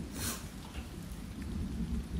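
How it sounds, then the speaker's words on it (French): Rain and wind outside, a steady soft rushing hiss with a faint low rumble, heard alone with no voices. "Mais bizarrement, il y a la pluie dehors avec le vent et tout"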